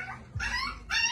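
A small micro exotic bully puppy gives two short, high yips close by, separated by a brief pause.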